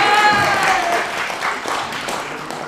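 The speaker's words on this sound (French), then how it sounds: "On peut l'applaudir quand même" Audience applause for a volunteer on stage at a mentalist magic show, loud clapping mixed with a short tonal sting of music at the start, fading slightly and continuing steadily.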